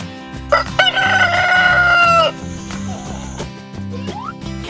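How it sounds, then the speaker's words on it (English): A rooster crows once, loud and drawn out, with a few clucking sounds afterward, all over a steady backing of children's music. "Chicken."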